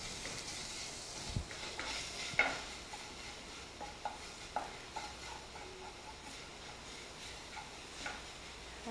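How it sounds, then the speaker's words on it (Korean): Soy-sauce-marinated meat stir-fried in a pan for Korean porridge (janggukjuk), a steady low sizzle under scattered scraping and utensil clicks against the pan, close but fairly quiet, with no talk. "아까 준비해놓은 간장 양념을 해놓은 고기를 먼저 볶아주세요."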